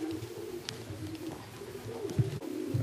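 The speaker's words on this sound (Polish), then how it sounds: "Tak, mamy tu kolejnego gołębia." Soft, low pigeon cooing in a few murmuring phrases against a quiet outdoor background, close by and moderately loud.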